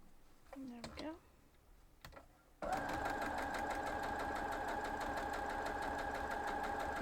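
After a couple of faint thumps and rustles, a sewing machine starts and runs continuously at a steady rapid rhythm, stitching a 9.5-inch half square triangle block for a 36-inch dog quilt, close and prominent.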